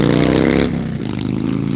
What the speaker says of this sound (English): Sheesh, motorcycles are loud